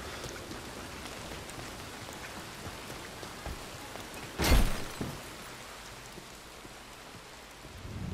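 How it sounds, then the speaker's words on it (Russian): Rain sets in within the video game Red Dead Redemption 2, a steady hiss of falling drops throughout with one brief loud crackling burst partway, heard alone without talk. "Ох, э, ты, дождик пошел."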